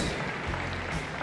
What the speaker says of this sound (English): this is a real, real reason to make a big round of applause for these two athletes